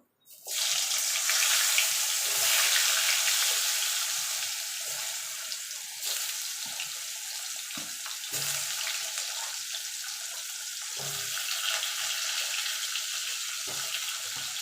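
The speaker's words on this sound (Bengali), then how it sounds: "এই তেলে আলুগুলো ভেজে নেবো" Potatoes frying in oil in a pan for a fish curry, a loud steady hiss of sizzling that sets in sharply and continues with small surges and crackles throughout, close up and alone.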